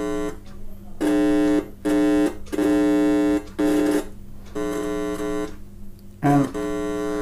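Cheap multimeter continuity buzzer, a harsh buzzing tone sounding in several bursts of varying length as the probes make and break contact, close and fairly loud.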